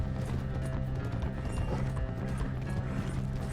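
A horse's hooves clop steadily in a continuous run in Red Dead Redemption 2, loud and close, with a dense low rumble of game audio mixed underneath.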